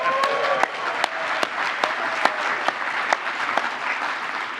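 First-time attendees at the Channel Source 2019 telecom conference clap and cheer: sustained crowd applause with sharp individual claps popping out and a brief whistle or whoop near the start.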